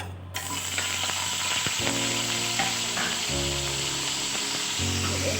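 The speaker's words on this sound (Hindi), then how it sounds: "ऐसे फ्राई करते हैं।" Chilies fry in hot oil for a turnip-and-meat curry, giving a loud, steady sizzle throughout, with a few clinks and scrapes of stirring in the pan.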